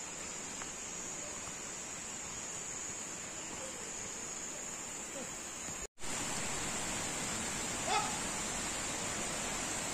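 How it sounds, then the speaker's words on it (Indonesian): A small waterfall near a river on a forest trail in West Sumatra, heard as a steady, broad rushing roar of falling water that carries on throughout, with a brief dropout partway through. "ini ada air terjun kecil di bawah ini"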